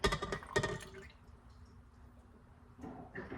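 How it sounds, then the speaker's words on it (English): Leftover milk from homemade butter making is poured into a container, with a brief splashing, gurgling burst at the start, then a quiet trickle and faint drips before another soft liquid rush near the end. "So there's a little bit of milk that's left. Just gonna pour this right in there."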